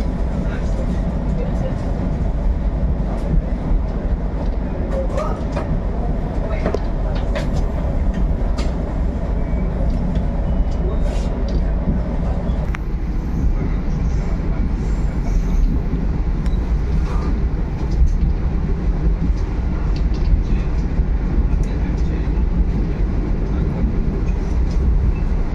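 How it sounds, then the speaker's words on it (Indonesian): A Pangrango economy-class passenger train pulls away from Cibadak station in Sukabumi, West Java, with a loud, close, continuous rumble of wheels and carriage that holds steady throughout with no pauses. "kereta api Pangrango diberangkatkan tepat pada pukul 9:50 dari stasiun Cibadak"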